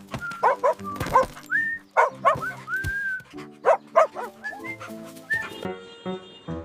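A dog's barks, yips and whimpers, heard alongside a toy animal, come as a string of short, close, fairly loud calls with whistly rising tones between them. No one speaks.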